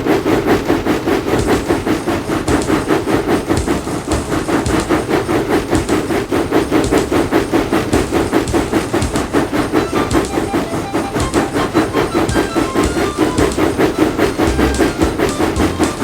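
Steam engines Donald and Douglas pull away from the yard in a Thomas film, a steady fast clanking rhythm of wheels and rods that stays loud and even throughout, with no voices.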